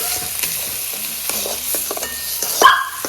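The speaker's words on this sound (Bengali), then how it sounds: "হালকা হালকা করে নাড়তে হবে" Gentle stirring in a pan over low heat with light sizzling frying underneath, scattered soft scrapes and taps of the spoon, and a brief dog bark in the background near the end.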